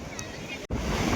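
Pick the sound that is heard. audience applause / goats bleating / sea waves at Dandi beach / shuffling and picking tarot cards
sea waves at Dandi beach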